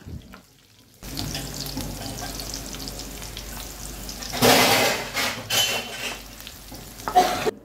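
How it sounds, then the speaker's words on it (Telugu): Finely chopped onions fry in hot oil in a pan for a mutton curry, a steady close sizzle starting after a brief quiet moment, swelling louder midway with stirring scrapes and clatter. "ఆయిల్ వేడెక్కిన తర్వాత సన్నగా తరిగిన ఆనియన్స్ వేసుకొని బాగా ఫ్రై చేసేసుకోవాలి."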